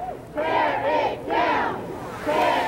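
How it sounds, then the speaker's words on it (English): A large protest crowd at a Confederate monument in downtown Norfolk chants in loud, rhythmic bursts, three swelling waves of many voices in unison, close and raucous. "If you can hear behind me, they're chanting,"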